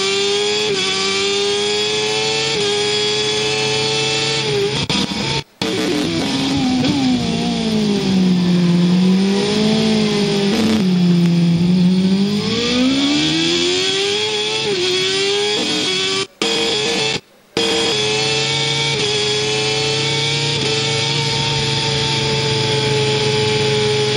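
From onboard a Team Suzuki superbike on a hot lap at an Australian Superbike race, a loud, high-pitched engine screams continuously, rising and falling as it revs through the gears, with a few abrupt brief cutouts.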